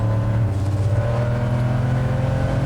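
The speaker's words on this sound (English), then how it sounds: "You can hear the squeal of the tyres." A car running wide into Redgate corner with its nose understeering gives off a steady engine roar with a sustained tonal whine suggesting tyre squeal, loud and continuous with no talk.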